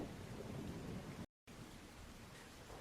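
Steady heavy rain with a low thunder rumble underneath, loud and continuous, cut by a brief moment of total silence midway before the downpour resumes.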